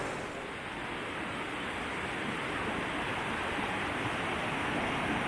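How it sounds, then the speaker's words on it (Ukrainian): Prut river rapids at the Yablunytsia falls, water cascading over stone boulders in a continuous broadband rush, steady and fairly close with no voices. "на яких річка каскадами робить стрибки по кам'яних брилах"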